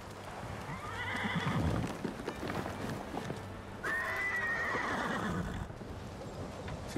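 A war horse in the video game Ghost of Tsushima whinnies loudly twice, the second call long and shrill, while its hooves clop steadily underneath throughout.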